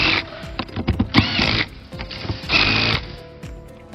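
A hand ratchet clicks while tightening bolts on the mirror base of a Clearview towing mirror, in close repeated bursts of rapid clicking separated by short pauses.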